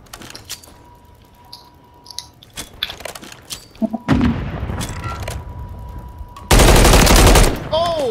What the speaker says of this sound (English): I got him with the nade. Shots and the nade, baby.